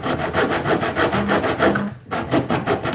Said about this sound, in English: See if I can hacksaw this thing